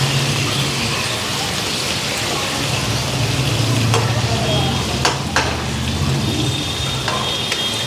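Fish simmering in a pan on a gas flame turned low, a loud continuous sizzle and bubbling like rain on a surface, with a few sharp clicks and scrapes of the utensil near the end.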